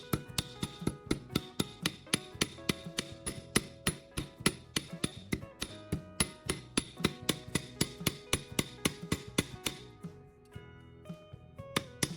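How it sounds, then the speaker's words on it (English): Steady series of sharp metallic hammer strikes flattening the end of a copper pipe on an anvil, ringing blows in a regular rhythm that stop near the end, leaving a faint ring. "I'll place it on my anvil and use a hammer to flatten one end completely"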